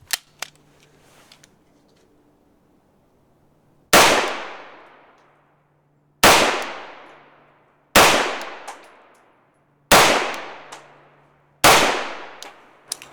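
Five loud, sharp pistol shots fired with Winchester frangible ammunition, each followed by a ringing decay, spaced unevenly over several seconds after a few faint clicks and handling noises.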